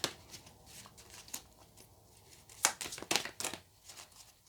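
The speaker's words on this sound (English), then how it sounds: "So this is the Sacred Power deck, if I can actually shuffle it today." A Sacred Power oracle card deck is shuffled by hand, a run of crisp riffling and slapping bursts, close up, with no talking.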